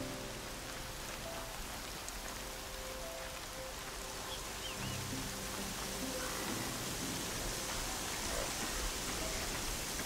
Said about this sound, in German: Ich weiß, dass es in Strömen regnet.